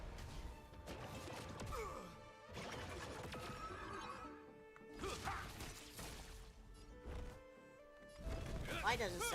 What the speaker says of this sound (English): Why does it sound like a horse?